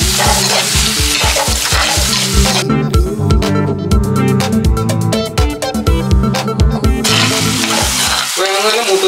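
Shallots, green chillies and curry leaves fry in a clay pot, a loud close sizzle under rhythmic scraping stirs that repeat steadily throughout.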